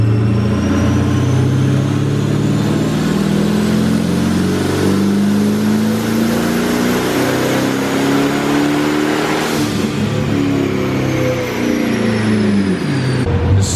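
A twin-turbo Chevrolet Camaro ZL1 engine pulls on a dyno, a loud, continuous near roar whose pitch climbs steadily through the rev range, then eases slightly near the end.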